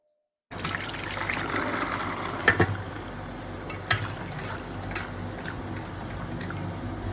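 Chickpea cooking water is poured into a container to soak tamarind in a home kitchen, making a steady close trickle and splash with a few sharper drips and knocks along the way.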